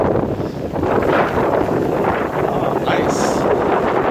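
Strong wind at the Corpus Christi, Texas bayfront, a constant roaring rush buffeting the microphone, loud and steady with a faint voice under it.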